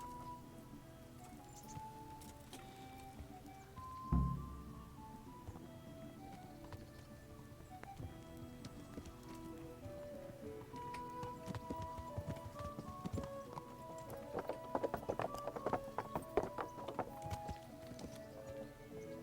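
Horse hooves clip-clop in the medieval game Kingdom Come: Deliverance, a soft, steady run of hoof taps over layered ambient game sound and music, one louder thump near the start.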